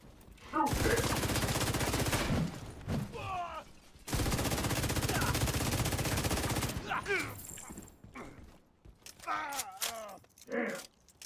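Bursts of automatic gunfire from a shooter video game, The Division, rattling in two long sustained volleys with short gaps, followed by scattered shorter shots and game voice sounds.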